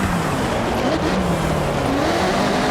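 A Ferrari engine roars steadily in the Forza Horizon 6 racing game, a loud continuous drone with rising and falling pitch as the car accelerates.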